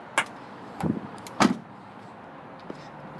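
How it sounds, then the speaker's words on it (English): Rear seats of a 2014 Mazda CX-5 GT folding down, two or three separate clunks and thuds about half a second apart, fairly close in a quiet interior. "Seats fold down real easy"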